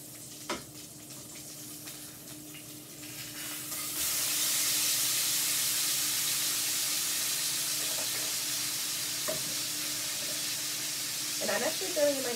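Shrimp fry in a hot pan, a soft background before a loud, steady sizzle swells in once they are flipped and keeps hissing, with small clinks near the end.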